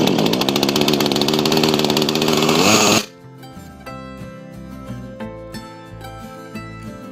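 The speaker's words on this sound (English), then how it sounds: "Hopefully we can get this chainsaw going." A chainsaw roars loudly for about three seconds, then cuts out abruptly, leaving a quieter background of faint knocks and hum.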